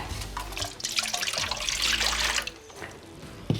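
Rice-washing water poured out for homemade organic fertilizer, a close, steady splashing gush of liquid that swells and then tapers off over a few seconds, with no talking.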